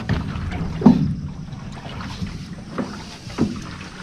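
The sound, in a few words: motorized wooden outrigger boat (bangka) running on water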